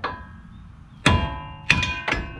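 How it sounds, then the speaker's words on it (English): A hammer strikes a tie rod end on a 2005 GMC Sierra during a rack and pinion replacement, giving three sharp metallic clanks with ringing tails, the first alone, the last two in quick succession, close up. "I'm just gonna go ahead and hit it with a hammer."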